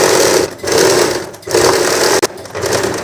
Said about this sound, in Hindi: अब मैं इसके इस तरफ एक 1 फुट का मार्जिन देते हुए एक और सिलाई लगाऊंगी